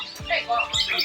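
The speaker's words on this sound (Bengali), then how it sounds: "প্রচুর পাখি এখানে, অনেক পাখিগুলা, অনেক ধরনের পাখি এখানে আছে।" Chirps and tweets from many kinds of caged birds, parakeets among them, at a bird stall set up in a vehicle at a weekly market in Portugal, short bright calls overlapping above a low background murmur.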